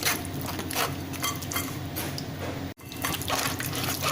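Water pours steadily into a bowl of tamarind to soften it for pulping, a continuous splashing, gurgling stream close by with a brief break near the end.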